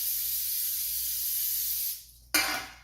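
Cooking spray hisses steadily onto baking pans in a home kitchen, one long close spray that stops, then a brief second burst.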